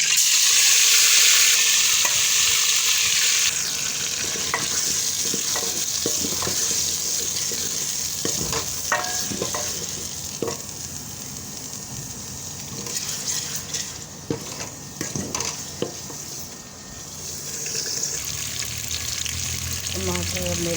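Ginger, garlic and tomato paste frying in hot ghee crackles and sizzles loudly at first, then settles into a softer fry with scattered stirring clatters from the pan, while someone speaks over it.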